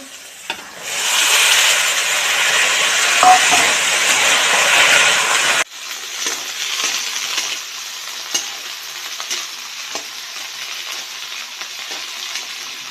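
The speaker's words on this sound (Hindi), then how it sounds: "इसमें थोड़ा जीरा डाला गया है। अब इसे भून जाने देते हैं" Cumin frying in a kadhai for a peas paratha filling: a loud, close, steady sizzle that drops abruptly to a quieter crackle with scattered pops and light taps.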